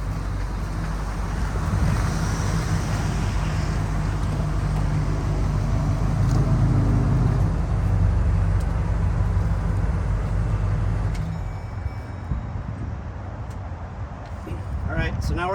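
A truck engine idles steadily at the front of the vehicle, a low continuous rumble lasting throughout with some wind noise, easing slightly near the end.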